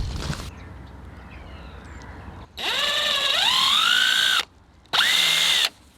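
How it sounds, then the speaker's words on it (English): A power drill bores through wood while walls are framed for bunk windows: a loud whirring burst whose pitch rises as the bit bites, a short pause, then a second brief burst, close by with no talking. "then you just drill through that"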